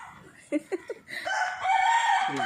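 A few quick clucks from chickens on a Thrissur homestead plot lead into a close, loud rooster crow that carries through to the end.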